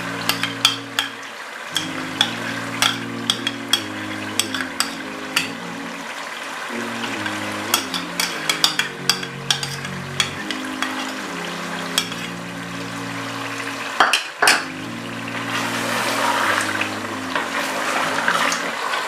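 Yogurt is stirred into a sizzling, bubbling pot for Sindhi biryani while a utensil scrapes and clatters repeatedly, with steady stirring and a background drone of music.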